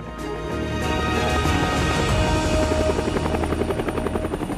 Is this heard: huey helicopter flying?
yes